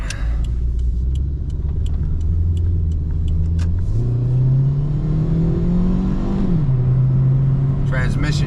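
A 1998 Toyota Corolla Levin coupe with the 4A-FE engine accelerates steadily from inside the cabin, its engine note climbing through the gears with a smooth shift midway, loud and continuous.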